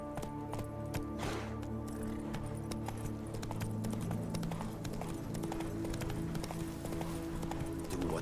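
Roach, Geralt's horse in The Witcher 3, trots with a steady clip-clop of hooves beneath a constant low background hum, moderate in level, with a brief bit of speech in the mix.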